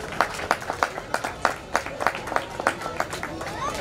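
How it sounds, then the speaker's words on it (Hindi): Audience applause at a community mela festival stage in Ahmedabad as a guest is called up, steady rhythmic group clapping with sharp, evenly spaced beats, fairly close, amid light crowd murmur. "एक बार तालियां हो जाइए प्लीज"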